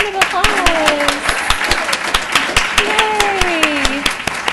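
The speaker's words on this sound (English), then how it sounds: "Let's give her a round of applause" An audience at a school board meeting claps steadily for a student receiving a certificate, a sustained patter of applause under a speaking voice.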